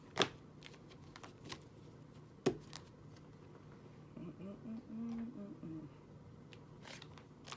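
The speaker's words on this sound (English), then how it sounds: "y'all done seen these cards being shuffled and all of this" Tarot cards shuffled in short crisp bursts, a sharp riffle near the start and another midway, then a softer steady shuffling rustle with small clicks in a quiet room.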